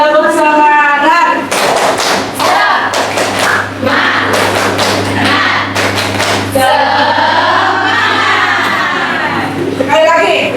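A group of adults at a school academic supervision workshop performs the rhythmic 'tepuk semangat' clapping routine, with bursts of sharp claps in patterned sets. Voices chant and talk loudly between and over the clapping.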